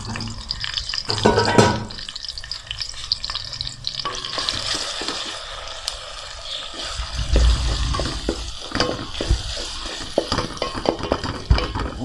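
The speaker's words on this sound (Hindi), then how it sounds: "प्याज को हम ब्राउन होने तक तलेंगे।" Onions browning in oil with ginger-garlic paste for chicken korma, a steady close sizzle with repeated spoon stirring and scraping against the pan, a few louder clatters, and no talking.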